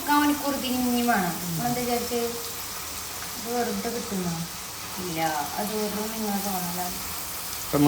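Butter sizzles in a pan while a beef burger is being made, a steady hiss running under voices talking throughout.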